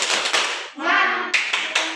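Classroom of first-grade children doing a rhythmic spirit clap, several bursts of close, sharp group hand claps with brief pauses between them, with a sustained children's chant in the middle.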